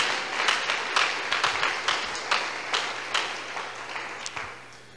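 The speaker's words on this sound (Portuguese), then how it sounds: "Agora dá uma salva de palmas bem alegre para Jesus." A church congregation claps along in quick rhythmic bursts, the sparse sound of a modest group in a worship hall, moderately loud and fading slightly toward the end.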